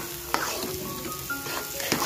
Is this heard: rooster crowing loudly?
no